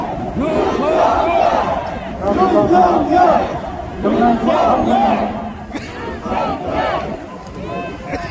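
A political rally crowd in Korea shouts together in loud rhythmic waves of chanting voices, swelling and falling repeatedly across the clip.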